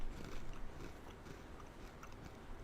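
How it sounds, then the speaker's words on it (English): Faint, wet slurping and mouth noises from a man noisily sipping water keep going in a steady, busy stream, close to the ear and fairly quiet. "this is the sounds that he's making every single time that he takes a sip of water"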